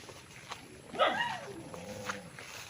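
A dog on a farm lot in Magdalena, Laguna gives a short bark and a soft whimpering yip, fairly faint and distant in the outdoor air.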